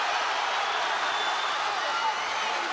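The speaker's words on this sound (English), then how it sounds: "And the crowd, the Belfast crowd, is trying to urge him on to exactly that now" Belfast crowd at a boxing unification bout in Ireland, a steady dense roar of cheering that stays loud and unbroken throughout, with no single voice standing out.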